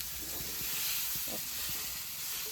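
Brinjal curry with spices frying in a pan gives a steady soft sizzle throughout, with faint scattered clinks and stirring sounds beneath it.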